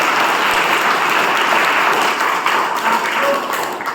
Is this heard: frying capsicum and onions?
no